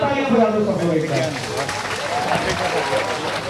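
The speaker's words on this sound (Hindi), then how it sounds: "जीवन का पहला प्रोटेस्ट अपने लिए जोरदार ताली बजा दो सबको एक बार।" A protest crowd at Jantar Mantar in New Delhi breaks into steady, dense applause that stays close and loud, while people talk over the clapping throughout.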